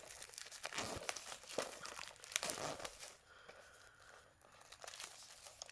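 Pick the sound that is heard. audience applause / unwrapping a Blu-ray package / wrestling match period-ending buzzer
unwrapping a Blu-ray package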